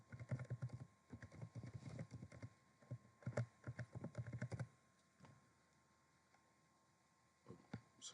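Quiet clicks of a computer keyboard as a password is entered, bursts of rapid keystrokes for about five seconds, a pause, then a few final taps near the end.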